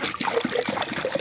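Fresh water pours and trickles into a container for chickens on an 1840 farm homestead, a close, gurgling splash with an uneven bubbling rhythm.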